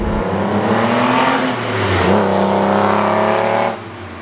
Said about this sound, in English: We're driving a Countach.